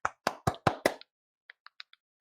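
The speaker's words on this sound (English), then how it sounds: "That's my hands clapping." Hands clapping close to the microphone: five sharp, loud claps in quick succession, then a pause and several fainter, lighter taps trailing off.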